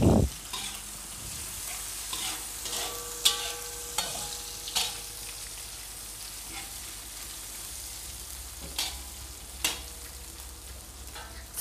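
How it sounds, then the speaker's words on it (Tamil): Anchovies frying in hot oil, a steady close sizzle with occasional sharp pops and stirring clicks, no voices. "சூடாயிடுச்சு, நெத்திலி வந்து பொரிச்சு எடுத்துக்கலாம்."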